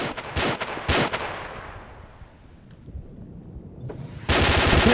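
Shotguns fire in a Garry's Mod DarkRP game, with two sharp blasts at the start, a fading tail, faint clicks, then another loud burst at the end.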